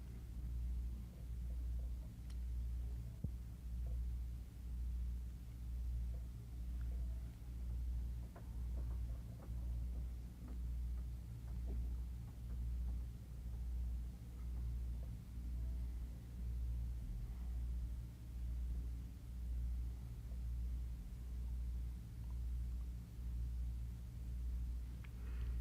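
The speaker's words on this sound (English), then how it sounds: "We will play the loop through one revolution at normal speed, and then through several revolutions with variations of the speed." A tape loop plays back on a tape recorder whose motor speed is varied, giving a steady low droning rumble that pulses in a regular repeating cycle throughout, with no voices.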